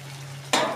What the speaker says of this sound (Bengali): এবার যে জল দিয়ে দিলাম, দিয়ে এবার ফুটতে দিই